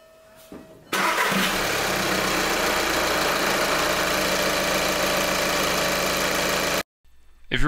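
A 2012-2014 Volkswagen Passat TDI diesel engine cranks and catches, then settles into a loud, steady idle that runs for several seconds before cutting off abruptly.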